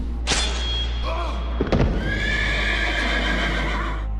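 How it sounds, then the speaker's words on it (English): A horse whinnies loudly, then hooves thud and clip-clop in a quick gallop, followed by a long, sustained neigh, a sound effect heard up close. "he mounted his horse and attempted to flee"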